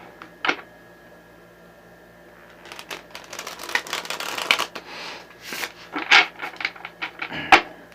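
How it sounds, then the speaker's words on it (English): Tarot cards are shuffled by hand indoors, a sparse run of riffling and snapping flicks that builds into denser, louder shuffling toward the end, close up with no talk. "Alright, one more shuffle."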